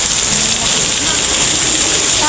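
Heavy rain pours down during a stroll in Vigan, a loud, dense, steady hiss filling the air with no breaks.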